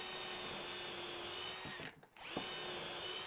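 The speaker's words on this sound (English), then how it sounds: "If you don't pull the drill back out and push it back in again, the flutes will jam full of rubbish." A power drill bores into wood while a router table fence extension is being built. The motor whines steadily, cuts out briefly, then starts again, fairly quiet and with no talk.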